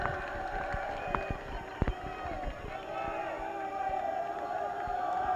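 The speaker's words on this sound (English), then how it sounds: "Crowd's getting excited." Crowd noise at a high school boys' soccer match during a corner kick, a steady murmur of spectators with scattered shouts and thumps, moderately distant and continuous.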